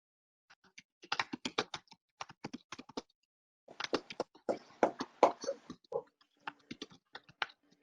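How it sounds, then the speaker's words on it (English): Heavy keystrokes on a computer keyboard come in quick, irregular bursts of clicks with short pauses between them, fairly close and alone, during a board meeting. "You're a heavy typer, Peter."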